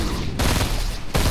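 Rapid bursts of gunfire in Fortnite, heavy and loud, forming two dense volleys that are separated by brief gaps with no talk over them.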